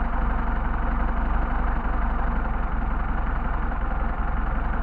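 An engine fitted with Solex 44PHH carburetors idles at low speed, with a steady, even low-pitched pulsing thrum and faint mechanical ticking, close and continuous with no talk.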